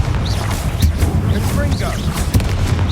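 Confringo fire spells in Hogwarts Legacy burst repeatedly, each blast a short booming crack over a steady low rumble of game ambience.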